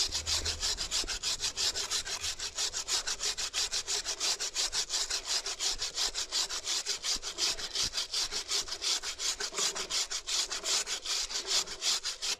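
A motorcycle chain scrubbed with a brush gives a steady, close, rhythmic rasping with rapid strokes throughout, loud and without any talking.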